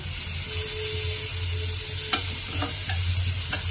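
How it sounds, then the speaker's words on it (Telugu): Ginger garlic paste fries in oil in a pan for an Andhra eggplant and egg curry. A steady sizzle is broken by several sharp scrapes of a spoon stirring close by, with no voices. "కొంచెం అల్లం వెల్లుల్లి పేస్ట్ కూడా వేసి వేయించుకుందామండి"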